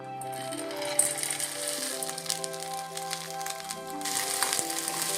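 Green peas sizzling steadily in a pan for a dhaba-style matar masala curry, a continuous moderate frying crackle under a sustained musical background.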